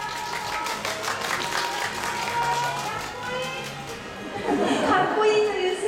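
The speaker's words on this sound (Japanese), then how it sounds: "拍手入りますね。" Audience applause at an Asian Cup 2014 table tennis event, a sustained patter of clapping from a crowd under a commentator's voice and background chatter, swelling louder near the end.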